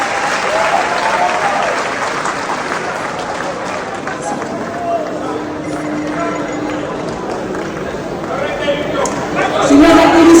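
Sustained applause from a sizable crowd at the ECOFEST Dakar 2025 opening ceremony, steady and dense throughout, with a murmur of voices and a brief announcer voice mixed in, swelling louder at the end.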